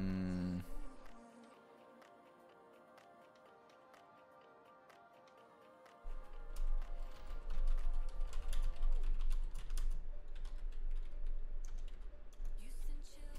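Computer keyboard typing in a rapid, steady clatter of light clicks, close and fairly quiet, running throughout with a louder low hum of background noise joining midway.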